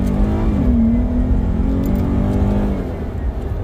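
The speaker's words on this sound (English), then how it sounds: "So that whistle you're hearing is actually the intake" A car engine fitted with a cold air intake revs steadily, a rising whistle riding over the engine drone for a few seconds, close and loud with no talking.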